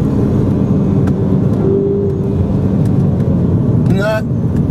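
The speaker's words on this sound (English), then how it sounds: "One past that red line to the rev limiter." A 2013 Ford Focus ST engine revs hard toward the rev limiter, a loud steady roar filling the whole stretch with a short rising whine near the end.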